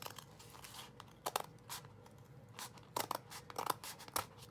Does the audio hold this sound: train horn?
no